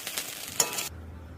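Fried rice sizzles in a pan while being stirred, giving a short burst of bright frying hiss with a scrape of stirring that cuts off abruptly, leaving quiet.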